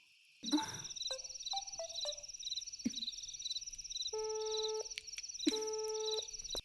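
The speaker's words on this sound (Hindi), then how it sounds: "अरे उसका फोन तो लग ही नहीं रहा है" A repeating electronic phone tone beeps in a steady pattern, interrupted by a few clicks and short tonal chirps, then pulsing tones.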